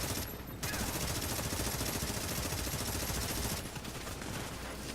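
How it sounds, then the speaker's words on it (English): Tommy gun fired from the hip in The Division, a dense, continuous automatic burst lasting several seconds, loud and close, with a brief gap near the start. "I'm going to have to hip fire"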